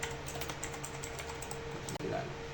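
Fingers type an nslookup command on a computer keyboard while setting up DNS on a Debian server, giving quick, light keystroke clicks in a short burst over a low room hum.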